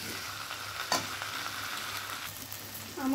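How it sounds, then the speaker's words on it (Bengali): Eggs and potatoes in masala sizzle steadily in a pan as a spoon stirs and scrapes through them, with a couple of louder scrapes and no voices. "আমি এবার ডিমগুলো অ্যাড করে নিয়েছি। এবার ভালো করে মিশিয়ে নেব।"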